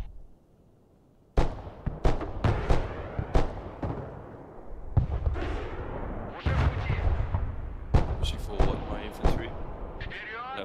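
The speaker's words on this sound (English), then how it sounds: "Incoming, HIMARS." Rocket artillery from a HIMARS launcher in the military video game Broken Arrow, heard as a run of sharp, loud booms and blasts over a steady battle din, with a voice talking over parts of it.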